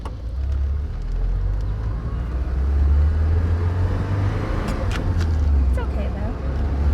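A Porsche 944 with a manual steering rack drives along, its steady low engine and road rumble continuous and fairly loud throughout, with faint voices in the cabin.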